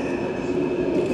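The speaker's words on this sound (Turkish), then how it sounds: "Başka tren karşımızdan geldi." A second train passing close by on a mountain railway, a steady loud rumbling rush of wagons and rail noise throughout, with no voices.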